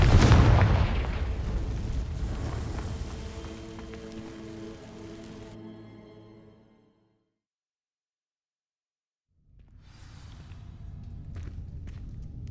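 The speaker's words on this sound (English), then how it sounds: "These dry vines are one spark away from becoming kindling. Confringo!" A fire spell cast in Hogwarts Legacy ignites dry vines, opening with a loud burst and crackling roar that fades and cuts to silence before quieter game ambience returns.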